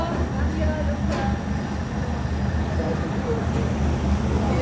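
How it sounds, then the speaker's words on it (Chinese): A slow train rolls through Hanoi's Train Street, a narrow residential lane crowded with a night market, producing a steady, continuous low rumble with crowd chatter mixed in. "这火车很慢哈，挺慢的，慢火车。"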